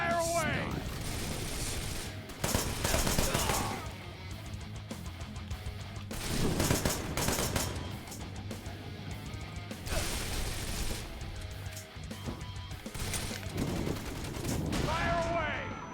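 Gunfire in the action game Wanted: Dead rattles in several bursts of rapid shots separated by short pauses, loud and close, mixed with mechanical clatter and occasional talking.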